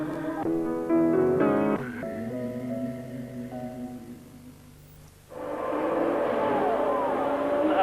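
Formula One racing cars at the 1981 Italian Grand Prix at Monza, engines droning and shifting in tone as cars pass, with a louder burst of engine roar near the end.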